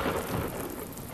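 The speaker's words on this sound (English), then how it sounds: "Especially when it is raining." Steady rain and thunder from the storm-soaked town of the video game Deadly Premonition: a dense, continuous hiss of rainfall with a low thunder rumble beneath, filling the whole moment without any voices.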